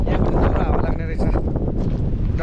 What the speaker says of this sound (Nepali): यहाँ पनि दुरो हावा लाग्ने रहेछ